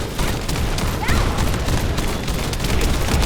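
Sustained heavy gunfire hammers a boss's deployed shield in The First Descendant, a dense, continuous barrage of rapid shots and booms that stays loud and close throughout with no talking.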